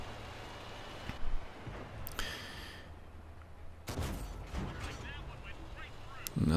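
A T-44 tank gun firing in World of Tanks, a few loud separate cannon blasts, each with a sharp crack and a ringing tail, over low engine rumble.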